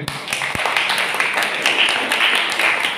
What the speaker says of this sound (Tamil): அவங்களுக்கு ஒரு கைத்தட்டு கொடுங்க